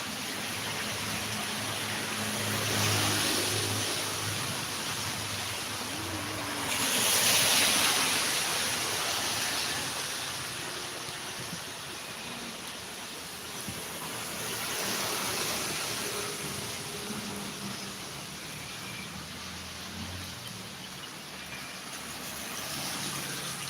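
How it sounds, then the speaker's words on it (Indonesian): Heavy rain pours during a morning walk, a loud, continuous rushing hiss that swells and eases in waves. There are no voices. "Oh, terjebak hujan guys"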